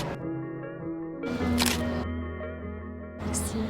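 Two bursts of camera shutter clicks snap during an outdoor photo session in downtown Beirut, Lebanon, crisp short clicks set against a steady background hum of music and crowd.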